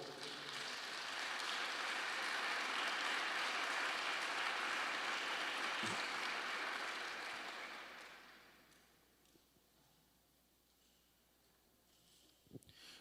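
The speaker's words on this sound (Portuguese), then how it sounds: "vamos aplaudir a palavra do Senhor" Church congregation applauding together, a dense, loud wash of clapping that holds for several seconds, then fades away to a quiet room with a few stray claps.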